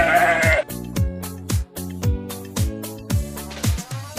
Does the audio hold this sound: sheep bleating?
yes